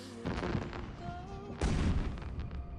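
Fireworks in an animated superhero series, heard as two loud booming bursts about a second apart, each followed by crackling and rumbling tails against a steady background soundtrack.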